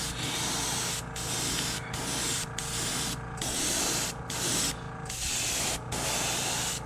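An airbrush at about 25 to 30 PSI sprays white base coat paint onto a hand-carved lipless crankbait fishing lure, a close hiss in repeated bursts broken by short pauses.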